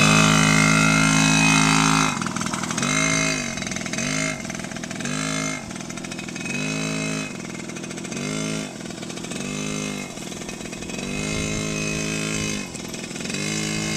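Dirt bike engine revving hard at wide-open throttle, a loud, sustained buzzing whine that rises and falls in repeated surges as the bike circles a track, close and continuous throughout.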